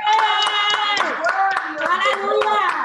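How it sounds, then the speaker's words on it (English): A worship congregation claps hands in praise to God, sharp steady claps ringing out over sustained singing voices and music. "give God a great big hand clap of praise"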